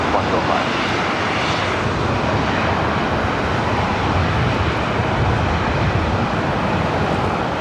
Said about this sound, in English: Jets lining up for takeoff here on the north side.